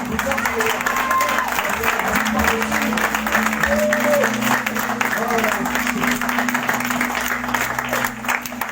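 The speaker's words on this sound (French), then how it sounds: "On va applaudir plus fort." A church conference congregation keeps clapping in a long, steady wash of applause, with a voice talking over it and low sustained instrumental tones beneath the crowd.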